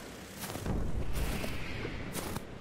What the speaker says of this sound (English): What the hell was that? Fireworks.